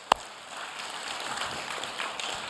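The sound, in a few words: congregation applauding in church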